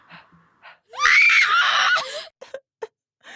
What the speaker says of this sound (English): Connie screamed.